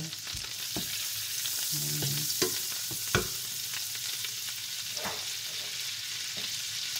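Butter sizzling in a hot pan for garlic butter shrimp, a soft steady hiss broken by a few clinks and scrapes of a utensil stirring, close and fairly quiet.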